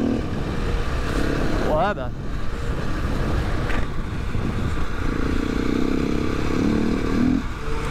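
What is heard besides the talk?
KTM 690 enduro motorcycle riding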